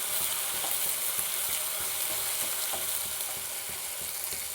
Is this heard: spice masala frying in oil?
yes